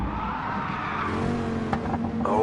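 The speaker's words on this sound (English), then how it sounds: "with a big slide through the hairpin as well" A Group 4 race car in GT Sport slides through a hairpin at Willow Springs, tires squealing and skidding loudly as the engine drones, followed by sharp bursts of rubber scrub near the end.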